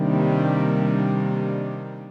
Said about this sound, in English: The sample by itself sounds like this.